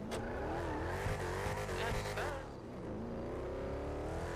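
A car engine in a video game roleplay revs and drones loudly with rising and falling pitch, then eases off briefly before picking up again, close and dominant over faint background.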